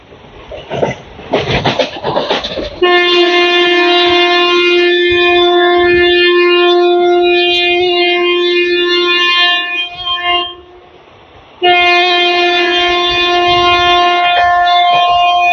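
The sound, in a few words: Howrah Rajgir Express train running with horn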